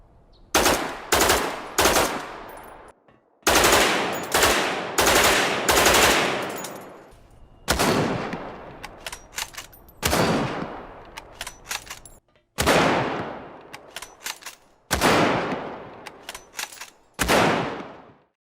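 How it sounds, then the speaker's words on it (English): Bursts of rapid automatic gunfire in the video game Dead Matter, each volley ending in a long echoing tail that fades out, repeated several times with short silent gaps. "we can also see gunshot tails, which are pretty interesting, how gunshots will be sounding in different environments"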